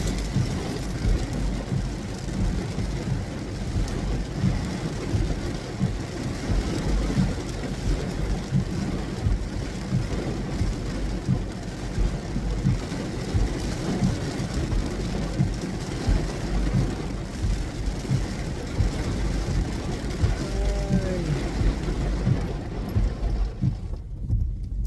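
Heavy rain pours steadily over the road in Canada, a dense constant hiss with a low engine rumble from slow traffic underneath, filling the whole stretch without talk.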